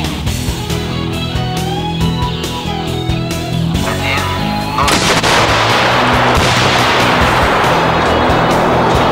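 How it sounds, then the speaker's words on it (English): A PG-29 Vampire anti-tank grenade striking a target fitted with ERA armor plates. A loud blast cuts in midway and turns into a sustained roaring rush of noise that drowns out the quieter sounds before it. "For this purpose, PG-29 Vampire anti-tank grenade is used, which can penetrate 750 mm of steel armor behind the ERA system."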